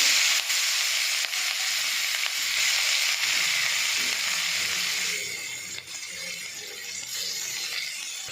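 Onion and nigella seeds added to hot oil left from frying fish, a loud, dense hissing sizzle that eases slightly partway through, close and steady with no talk.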